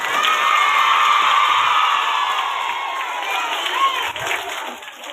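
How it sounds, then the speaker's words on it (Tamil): At a school Teachers' Day celebration, a large crowd of students cheers and shouts together, a loud sustained roar of young voices that slowly eases off near the end. "சத்தமா கைத்தட்டி வாழ்த்துக்களை சொல்லுவோம்."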